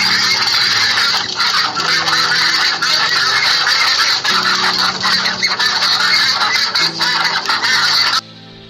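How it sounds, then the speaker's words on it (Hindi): Duck quacking and honking loudly and close, a rapid series of harsh repeated calls filling most of the clip before stopping abruptly near the end. "This is a duck."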